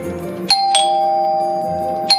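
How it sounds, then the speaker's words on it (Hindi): A doorbell chimes three times in quick succession, each ding bright and ringing out with a sustained tone, close and loud with no voices. "बहू, घंटी बज रही है"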